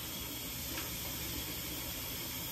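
Tap water runs steadily into a pot being rinsed out in a home kitchen, a constant broadband hiss and splash, close and even throughout, with no voices.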